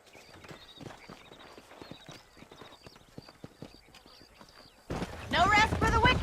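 Horses' hooves clip-clop across the ground in the video game Red Dead Redemption 2, a soft irregular patter of several animals walking, and then a voice speaks loudly over them near the end.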